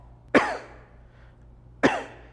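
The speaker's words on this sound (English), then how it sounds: "and cough." Two sharp, close coughs made while bracing the core with fingers dug into the abdomen, spaced about a second and a half apart against a quiet background.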